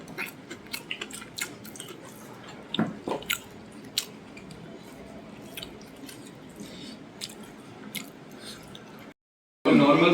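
Someone eats a home-cooked vegetable curry of pumpkin, potato, stems and carrot, with close, wet chewing and squishing bites in an irregular run, ending in a brief silence and then a loud burst.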